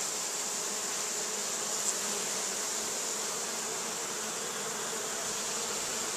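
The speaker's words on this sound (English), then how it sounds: "Lovely strain of bees." Tasmanian honey bees swarm around their hive entrance, a dense continuous buzzing close by that holds steady throughout with no voices.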